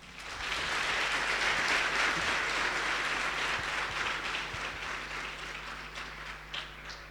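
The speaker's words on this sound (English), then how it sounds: "in our audience that really deserves a round of applause" Studio audience applauding on a television talk program, a full sustained burst of many clapping hands that swells in quickly, holds steady and thins a little near the end, with a faint low hum underneath and no speech.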